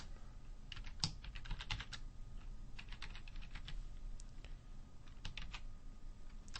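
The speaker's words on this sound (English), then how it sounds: "I'm going to go ahead and type in another MAC address here" A computer keyboard clatters as a MAC address is typed, with quick irregular bursts of key clicks and short pauses, close and alone.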